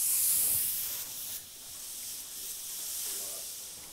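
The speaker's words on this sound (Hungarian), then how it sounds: "hogy sziszeg, tehát hogy egyik része gázzá alakul és elpárolog" Pressurized liquid hisses out of a newly opened vessel during a school chemistry experiment, partly turning to gas as it escapes. It makes a steady, fairly loud airy hiss for about four seconds that eases slightly partway through, with no voices.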